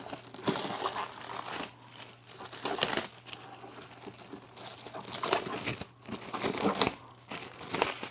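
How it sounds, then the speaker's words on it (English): Plastic wrap is pulled and crumpled off a 43-inch Roku Select Series 4K HDR smart TV, making close, uneven bursts of loud crinkling with brief quiet gaps between pulls. "Take the plastic off."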